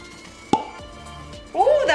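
A plastic cork on a bottle of Haitian rum gives a single short pop, followed by speech.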